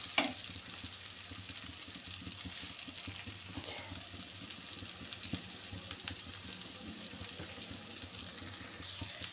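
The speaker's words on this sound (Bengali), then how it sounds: "ভালোভাবে কষিয়ে নিব।" Rice for chicken pulao sautéing in a pan, giving a steady, quiet sizzle with scraping stir strokes throughout, no voices.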